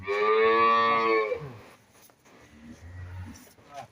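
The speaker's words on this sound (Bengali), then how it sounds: "এগুলা তো দুধের গরু ভাই।" Holstein Friesian dairy cow gives one loud, close moo lasting over a second, followed by quieter farmyard noise and low murmurs.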